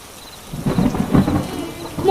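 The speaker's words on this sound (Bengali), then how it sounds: "আর একটু অপেক্ষা করি, দেখি যদি বৃষ্টিটা কিছুটা কমে" Heavy rain pouring steadily with a deep rumble of thunder rolling through, loud and close, with no voices.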